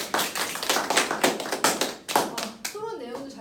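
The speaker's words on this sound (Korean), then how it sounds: "한 번만 박수 쳐주세요." A short burst of clapping from a classroom group after a student's debate question, scattered uneven claps over about two seconds, followed by a brief voice.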